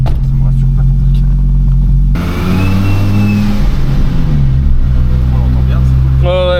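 Audi car engine fitted with Porsche parts revving hard, a loud sustained rumble whose pitch climbs and falls through repeated throttle blips, with people talking over it.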